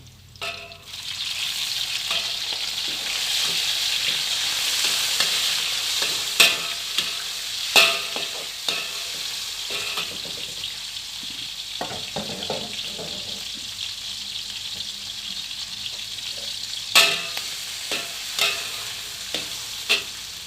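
Shrimp and garlic sizzle steadily in a hot pan while a utensil stirs and scrapes at intervals, close and continuous, with no talking.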